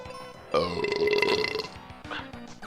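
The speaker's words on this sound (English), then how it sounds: "there's a nice little burp for you, just in case you're interested." A single long, loud human burp rolls out for about a second, followed by a few softer throaty grunting sounds close to the microphone.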